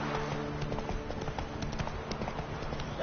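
Roach, the horse in The Witcher 3, with hooves clip-clopping in a steady rhythmic gait, close and even, under a constant low game ambience, with no talking.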